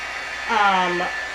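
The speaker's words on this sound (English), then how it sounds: "I don't know if they say to heat set it, but I am heat setting it" Handheld heat tool blowing on embossed paper cardstock, a steady fan whir with a brief whine that rises and falls in pitch midway, close and moderately loud, no voices.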